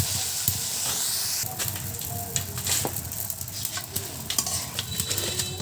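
Small fish and spices poured into a hot pan on a clay stove, a loud burst of sizzling settling into steady frying with scraping, stirring and metallic clatter close by.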